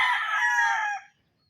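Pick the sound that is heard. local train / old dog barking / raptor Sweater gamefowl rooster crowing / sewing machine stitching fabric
raptor Sweater gamefowl rooster crowing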